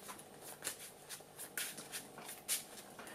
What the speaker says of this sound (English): You shuffle up your deck.